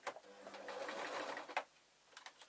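A sewing machine stitches a pumpkin outfit in one steady, quick burst of needle chatter, stops abruptly, then a few faint clicks follow.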